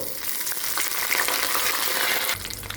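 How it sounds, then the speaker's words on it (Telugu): Cumin, mustard seeds, a few fenugreek seeds, dried red chillies, curry leaves and turmeric fry in plenty of hot oil for a tomato chutney tempering, making a loud, dense, continuous sizzle close up that drops slightly near the end. "చూడండి వేగుతుంది కదా, ఎండుమిర్చి కూడా కొంచెం రెడ్గా అవుతుంది కదా"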